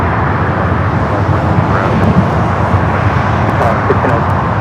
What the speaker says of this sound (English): that 787-8 Dreamliner heading back to Tokyo Narita